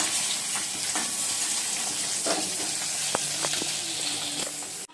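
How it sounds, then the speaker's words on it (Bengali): Fish frying in a pan in a home kitchen, a steady broadband sizzle that holds for the whole stretch, with occasional sharper pops and spatters breaking through and no talking. "মাছটা ভেজে নিচ্ছি।"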